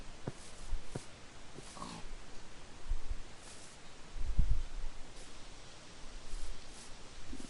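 Pig oinking in the Minecraft video game, a few short faint grunts scattered over a quiet, rustly background, with no talking.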